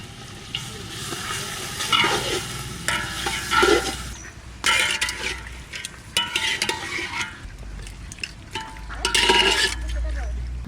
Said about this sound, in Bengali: পিতলের হাঁড়িতে মাংসটা খুব সুন্দর করে রান্না করব